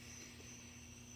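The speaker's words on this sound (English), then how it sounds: "But the crickets all chirping away." Crickets chirp on a front porch on a humid summer evening, a faint, steady high-pitched trill that runs continuously in the background, ending with a brief click.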